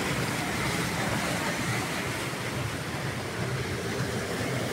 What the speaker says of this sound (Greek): βγαίνει το νερό